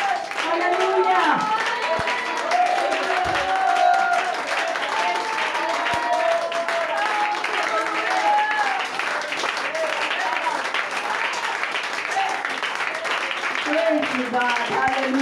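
A church congregation at a Sunday service applauding, a dense, steady wash of clapping lasting throughout, with voices calling out and talking over it.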